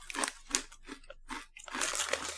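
Someone bites and chews crunchy salted bean-like Japanese crisps up close, making a rhythmic series of about five crisp crunches followed by denser, continuous chewing.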